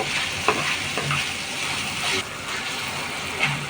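Broiler chicken mince frying Chinese style in a pan, a continuous loud sizzle with scraping stirs of a spatula against the metal, close up, no talking.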